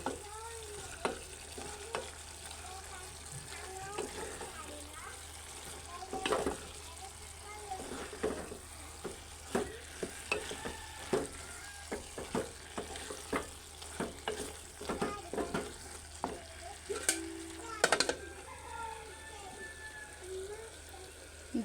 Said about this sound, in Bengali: আর একটু কষিয়ে তারপরে পানি দিয়ে দিব